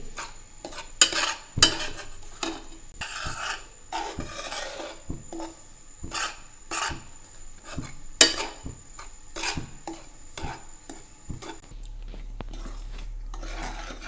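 A ladle scrapes and stirs rice flour roasting in a pan, producing close, repeated rasping strokes in an uneven rhythm, with no voices.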